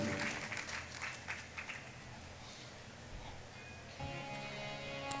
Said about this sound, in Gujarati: જોરદાર તાળીઓથી આપણે એમને પણ બિરદાવીએ.